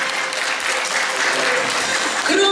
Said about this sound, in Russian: Громче аплодисменты, друзья